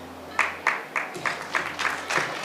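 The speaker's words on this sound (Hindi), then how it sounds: "ताली बजाए इनके लिए" Audience clapping at a Good Friday gathering for a child who won a picnic race, a light, loose round of several slow rhythmic claps without speech.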